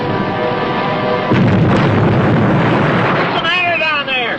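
A submarine under attack in a war series, with a loud roaring rumble of explosions and turbulent water noise that swells and holds, a voice speaking over it.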